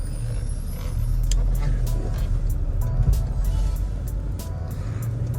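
Skoda Octavia A with an MPI petrol engine driving along a road, a steady engine and tyre drone heard from inside the car with a few brief clicks and rattles.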